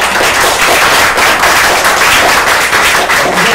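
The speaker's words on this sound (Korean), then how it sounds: "저자님께 감사의 박수를 다시 한번 드립니다" An audience at a book forum author talk claps in thanks, a loud, dense burst of applause from many hands filling the room without pause and with no speech over it.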